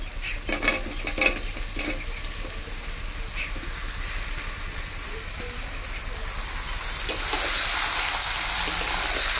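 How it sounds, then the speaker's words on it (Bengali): Chicken and potatoes with spices stir-fry in a pan, a continuous loud sizzle with scraping stir strokes early on and the hiss swelling toward the end. "মাংস আলু একসাথে দিয়ে কষিয়ে নেব"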